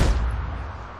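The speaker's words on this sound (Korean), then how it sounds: "그때 높은 곳에서 포탄 소리가 들려왔지" An artillery shell fired from high ground, a single loud booming blast that rolls off into a fading rumble, heard alone without voices.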